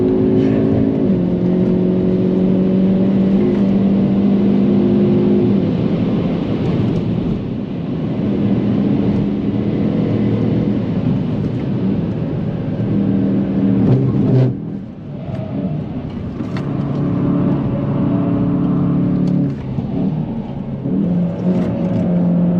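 A Hyundai i30N DCT being driven hard on the Nürburgring, its engine a loud, continuous drone from inside the cabin that rises and dips as the car moves through corners.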